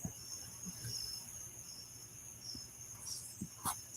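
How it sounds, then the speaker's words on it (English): Crickets chirp steadily through the background in a high continuous trill, fairly faint, with a few soft knocks and thumps nearby and no speech. "Cue the crickets."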